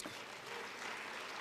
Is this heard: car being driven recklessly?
no